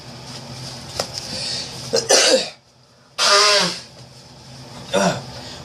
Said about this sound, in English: I have to blow my nose, excuse me.